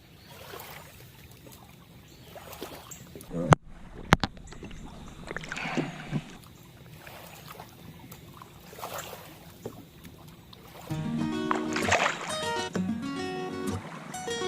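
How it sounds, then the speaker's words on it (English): A fishing kayak being paddled in and run up onto the shore, with soft water trickles and paddle splashes, a couple of sharp hull knocks, then a louder grinding scrape near the end. "Figured I'd beach the kayak and let him go from shore."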